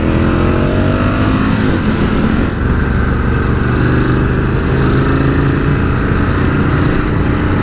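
A 2019 Ducati Scrambler 1100 motorcycle ridden and leaned through curves on dry Tuscan roads gives a loud, continuous engine drone with rising and falling pitch, close up, mixed with wind rush and no talking.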